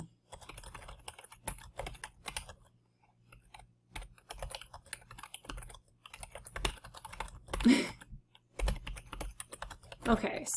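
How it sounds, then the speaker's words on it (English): Typing on a computer keyboard in bursts of quick clicks, pausing between runs of keystrokes, with some scattered quiet talk in between. "I'm going to type a little bit, and then I'm going to pause, and then I'm going to get the rest of that stuff typed in"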